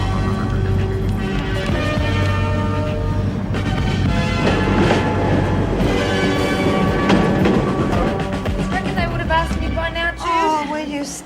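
A train runs on rails with a continuous loud rumble and rattle throughout. Tonal ringing mixes into it, and voices come through in places.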